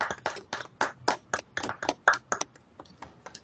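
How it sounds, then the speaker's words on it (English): Hands clap at an award ceremony, a sparse run of a dozen or so crisp, separate claps in an uneven rhythm, close and moderately loud, thinning out toward the end. "We can clap again"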